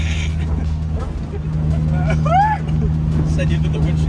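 A car's engine runs in race mode, a steady low drone heard from inside as it drives, with voices talking over it.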